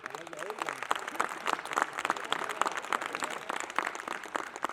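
An audience at a Hindi comic poetry recital claps for the poet. The applause is a moderate, steady patter mixed with voices, fairly quiet and continuous throughout.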